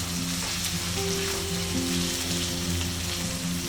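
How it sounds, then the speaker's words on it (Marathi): Stuffed eggplants for a Maharashtrian bharli vangi being gently sautéed in a pan, a close, steady loud sizzle of frying with faint stirring, and no voice over it. "आता पहिल्यांदा हलक्या हाताने वांगी परतवून घेऊया"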